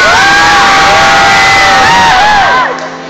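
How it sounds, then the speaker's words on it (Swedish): A large teenage crowd cheers and screams for a singer, a loud sustained roar with shrill whoops layered on top that fades out near the end. "Men då vill han ha ännu mer jubel, tror jag."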